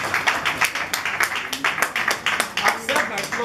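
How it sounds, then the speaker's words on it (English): An audience at a Lions Club meeting claps in a quick, fairly close and lively rhythm of individual claps, steady throughout. "Who's not clapping for me?"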